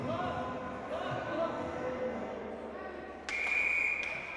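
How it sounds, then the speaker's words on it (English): Referee's whistle at an ice hockey game in an MIAA state tournament opening round, a sharp sustained shrill blast lasting under a second, cutting in loudly over the arena crowd murmur and a commentator's talk. "And another whistle."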